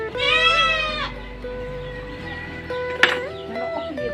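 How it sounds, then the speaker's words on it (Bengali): A goat bleating loudly, one long wavering cry up close followed by quieter low calls and a sharp short bleat, with no talking. "ছাগলটা অনেক চিল্লাপিল্লা করেছে।"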